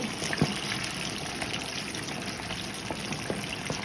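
Honey hot chicken wings poured into a cooking pot, a steady liquid trickle and pouring wash with a few soft knocks, close and moderately quiet, no voices.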